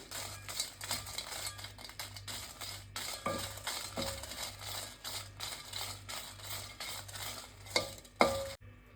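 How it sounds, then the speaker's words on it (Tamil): Kashmiri and plain dried red chillies roasting in a pan, with quiet, steady stirring and scraping, soft sizzling and a few sharp clicks of the spatula against the pan. "இந்த சாதா வத்தலையும் முதல்ல வறுத்துக்கலாம்."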